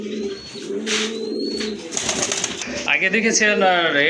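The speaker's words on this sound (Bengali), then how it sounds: "এখন দেখতেছেন আপনার ব্ল্যাক কালারের ভিতরে আরেক জোড়া রাজগোল্লা কবুতর" Large black Rajgolla pigeons coo in low, throaty bursts while someone talks over them, with bird calls and rustling in the background.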